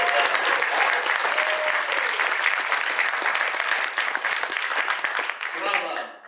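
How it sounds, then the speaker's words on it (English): Loud, sustained applause from a banquet audience at a roast, dense clapping filling the room for several seconds before tapering off at the end. "give a very loud applause to the one person that deserves it more than anyone else"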